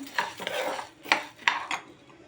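Cumin seeds, a tablespoon, dry-roasting in a pan over a low flame, stirred with a spoon: a few distinct scraping, clinking strokes spaced across a couple of seconds with faint crackle between, close and fairly quiet.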